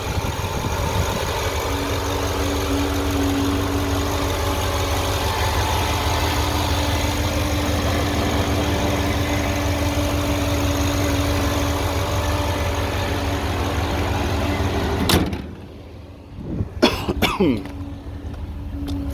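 A 2011 Ford Raptor with a 6.2-liter V8 idles nearby, its steady low rumble and hum holding evenly for about fifteen seconds before cutting off, followed by a few faint clicks and knocks in near silence.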